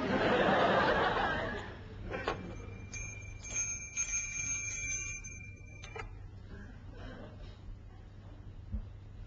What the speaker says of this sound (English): Why did you ring the bell?